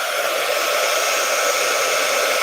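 A hair dryer runs steadily and loudly, blowing over wet paint on a mixed media artwork to dry it, a continuous close whooshing drone with no talk over it.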